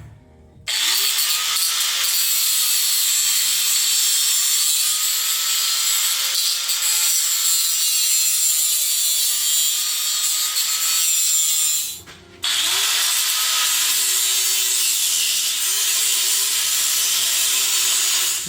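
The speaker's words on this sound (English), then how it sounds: "We are cutting next to the rubber bushing, so there will be a lot of smoke." A power tool saws through a Toyota Tacoma rear leaf spring next to its rubber bushing, a loud, continuous grinding hiss that holds steady for about eleven seconds, cuts out briefly, then resumes.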